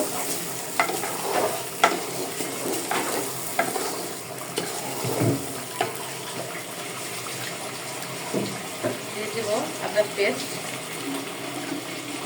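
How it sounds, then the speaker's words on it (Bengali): Rice being fried with ginger paste and salt in a pan for a home-cooked lunch, giving a steady close sizzle with repeated scraping stir strokes and occasional clinks, no talking. "চালটা সুন্দর করে ভেজে নিব"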